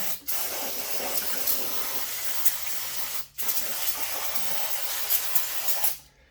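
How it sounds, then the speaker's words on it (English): A steady, loud aerosol hiss of brake cleaner spraying in two long bursts onto a Cub Cadet 1554 tractor's Kohler engine sump area, separated by a brief pause, with no talking. "Spray it back down with brake cleaner."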